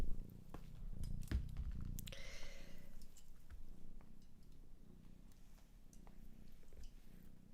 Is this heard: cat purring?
yes